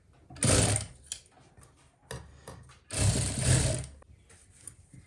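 A sewing machine stitching a cuff sleeve runs in two short bursts of fast mechanical whirring and clatter, close up, separated by quieter handling clicks.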